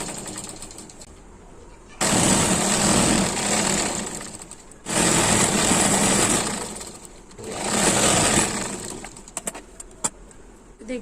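An electric sewing machine stitches lehenga fabric in three separate loud whirring runs, each lasting a couple of seconds with short quiet pauses between them, close by.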